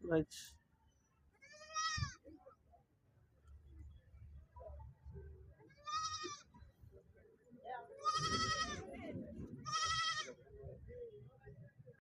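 Goats bleat several times at a weekly livestock market in Siddipet, loud and close, in separate calls spaced a few seconds apart, with low crowd murmur and shuffling in between.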